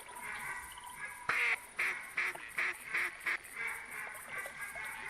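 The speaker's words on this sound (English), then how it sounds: "Sounds like mallards" Mallard duck calls in the hunting game theHunter Classic, a clear series of about six rhythmic quacks at mid distance over a quiet outdoor ambience, heard alone.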